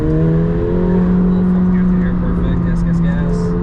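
A McLaren 750S sports car accelerating on the Las Vegas Motor Speedway, a loud steady engine drone with rising tones heard from inside the cabin, with faint voices in the background.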